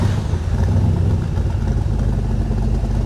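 A classic Corvette engine, freshly repainted during a restoration, runs with a steady, loud, close low rumble and a slight rise as it revs, with no voices over it.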